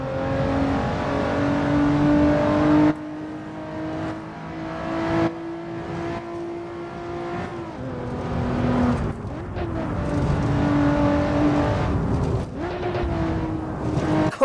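A car engine revving up and easing off through several gear changes on the Nordschleife, with crackling overrun pops as the throttle lifts, loud and close.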